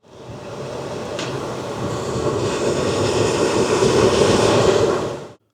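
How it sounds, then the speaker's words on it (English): The air conditioning of a 2025 GMC Canyon Denali starts up with a loud, steady jet-like roar that builds over several seconds, then cuts off abruptly, with no one talking. "That was the air conditioning firing up. It sounds like a jet engine because it's powerful, professional grade."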